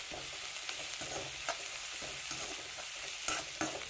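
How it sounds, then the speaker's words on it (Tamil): Ginger garlic paste with a pinch of salt sautéing in a pan for a chicken gravy, a steady soft sizzle broken by repeated scraping stirs and light clacks, close and alone. "இஞ்சி பூண்டு பேஸ்ட் அதனோட பச்சை வாசம் போகிற அளவுக்கு நல்லா வதக்கி விட்டுக்கோங்க"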